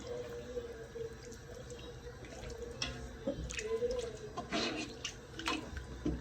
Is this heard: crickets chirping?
no